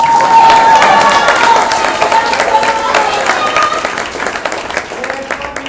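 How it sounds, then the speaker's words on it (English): Audience at a college senior show applauding steadily and loudly, a dense wash of clapping with some crowd noise that gradually thins. "You can clap, you can clap."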